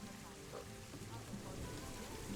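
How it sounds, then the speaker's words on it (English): Steady rain falling across a zoo map in Planet Zoo, a continuous soft hiss of drops with a faint voice murmuring underneath. "It does rain a lot on this map. It really rains a lot."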